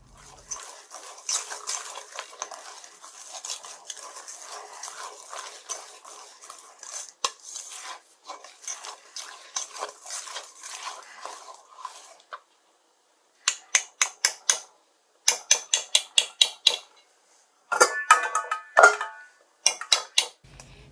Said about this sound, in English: Mix until creamy.